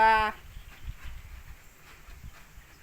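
A short, loud, low cow moo right at the start, outdoors under gathering rain clouds, then only a faint low rumble and soft background noise.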